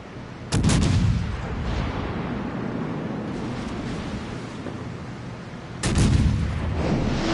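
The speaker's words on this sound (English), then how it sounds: "That was a full broadside from the Elizabeth." Two heavy booming salvos of battleship broadside gunfire in the World of Warships naval game, each a sudden loud blast trailing into a rumbling roar over steady wind and sea ambience.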